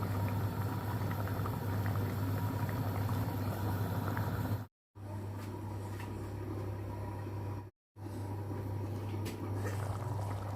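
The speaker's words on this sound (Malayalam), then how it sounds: "കറിയെല്ലാം നന്നായിട്ട് തിളച്ച് വന്നിട്ടുണ്ട്" Steady bubbling and hissing of a prawn and coconut milk curry on the boil, continuous and close, with a low hum underneath and two brief dropouts.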